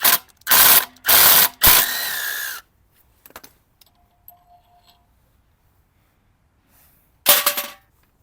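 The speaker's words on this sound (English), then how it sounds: "Taking this main bolt out of the shaft might take this little block off here." Ratchet wrench clicking in short rapid bursts as it loosens the main bolt on a small generator engine shaft, loud and close, three quick bursts then a longer run, followed by near silence and a final brief burst.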